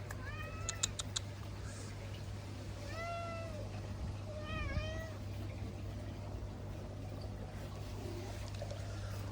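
A cat meows several times, short rising-falling calls at moderate distance over a steady low hum and faint background noise.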